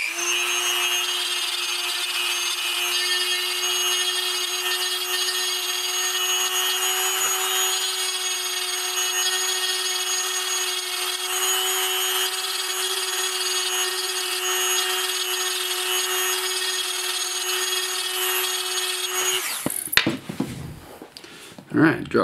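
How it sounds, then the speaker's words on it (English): A small drill bores through the peg of an action figure's shoulder ball joint, giving a close, steady high whine that holds unbroken for about twenty seconds, then stops abruptly and gives way to handling noises. "drill the rest of that up to the other side of the peg"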